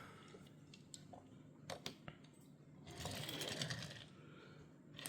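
Small die-cast Hot Wheels Honda Civic Custom toy car rolling across a surface, a quiet rattling, whirring roll with a few sharp clicks, swelling louder for a couple of seconds near the end.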